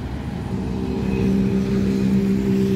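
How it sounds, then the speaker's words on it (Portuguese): Next Mobilidade city bus on line 284 to São Mateus passing close by on a street at the Santo André–Mauá border, a loud steady diesel rumble and whine that builds and holds. "Carro da Next Mobilidade prefixado em"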